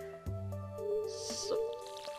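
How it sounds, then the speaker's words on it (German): Crops are watered with a watering can in Stardew Valley, a short splash and squishy trickle of water with drips, heard alone and fairly close. "So, die Ecke muss ich dann immer noch gießen."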